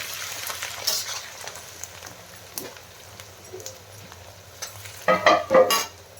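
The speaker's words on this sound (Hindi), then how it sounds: "आस्ते आस्ते पियाज भी हमरा बढ़िया से भाजी जबो" Onions frying in a pan over medium heat: a soft, continuous sizzle broken by scattered crackles and spoon-scraping stirs, with a louder burst of clattering stirring near the end.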